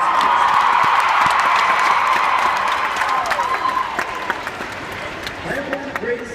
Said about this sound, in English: Can we please give them some love and a big round of applause, please?